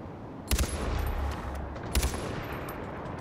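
Gunfire rattles through an outpost fight in Far Cry 4, with three separate bursts of rapid, loud shots over a constant background of battle noise.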